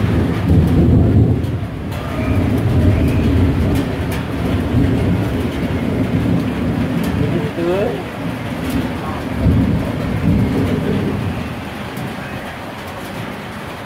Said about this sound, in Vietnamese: ngoài trời đổ mưa